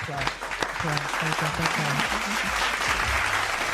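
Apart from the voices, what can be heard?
audience applause at live show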